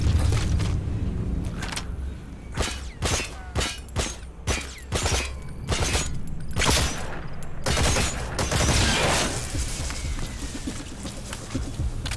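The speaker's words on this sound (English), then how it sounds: "Слышу стрельбу!" Video game gunfire in Metal Gear Solid V: The Phantom Pain: bursts of rapid fire and sharp shots crack repeatedly at varying distances, with booming impacts in between.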